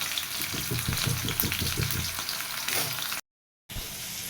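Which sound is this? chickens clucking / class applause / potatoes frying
potatoes frying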